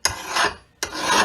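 Two close, loud rasping strokes of a hand file along a hatchet edge, each pass a harsh scrape with a brief gap between.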